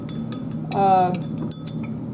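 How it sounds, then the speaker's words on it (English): Glass stirring rod clinking against lab glassware while a heated copper solution is stirred, a few light, bright taps and scrapes up close, with a brief louder swirl near the middle. "So I'm just going to stir it a little bit."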